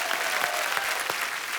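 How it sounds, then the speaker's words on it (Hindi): A studio audience at a comedy show breaks into loud, dense applause, a full sustained burst of many hands clapping with a few sharper claps standing out. "जोरदार तालियां।"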